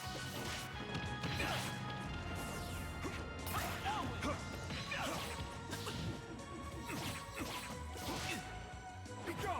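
Down smash attacks landing in a Super Smash Bros tournament match, a flurry of crashing hits, whacks and whooshes in quick succession under faint commentary.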